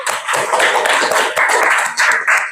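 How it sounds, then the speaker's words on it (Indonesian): A classroom of students clapping hands together during a lesson, a steady, loud burst of group clapping from start to finish. "beri tepuk tangan untuk kita semuanya"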